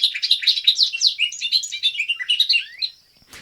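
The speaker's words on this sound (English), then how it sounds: "That is actually the bobolink." A bobolink sings in an open field, a rapid bubbling run of bright, tumbling chirps and warbles that is loud and close, ending abruptly with a soft click.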